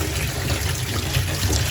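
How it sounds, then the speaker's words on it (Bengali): Meat is rinsed in water, giving a short burst of splashing and trickling with small irregular sloshes, close by and steady over a couple of seconds. "এগুলো ধুয়ে নিই, ধুইছি একবার, তারপরে আরেকবার ধুয়ে নিলাম।"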